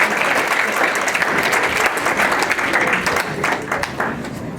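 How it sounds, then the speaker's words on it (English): An audience at a high school grad night hypnosis show gives a sustained round of applause, dense continuous clapping that fills the room for several seconds. "give them a round of applause"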